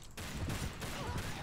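Shots ring out in a chaotic shootout in Mount and Blade Warband, an 1860s Old America bank robbers scenario, with several close, loud reports in quick succession and no talking.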